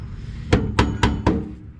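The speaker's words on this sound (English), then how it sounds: "Right there, tap the hammer. Tap it." A hammer taps a screw four times in an even, quick rhythm during a third-generation Camaro build; the strikes are sharp, close metallic knocks over a low background rumble.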